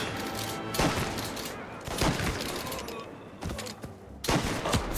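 Gunfire in a police shootout from Mafia Definitive Edition, dense overlapping shots and sharp cracks echoing loudly in repeated volleys over a constant roar of battle noise.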